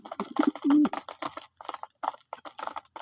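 Pet pigeons kept for breeding coo close by, a few low throaty bursts early on, followed by scattered rustling and faint tapping sounds.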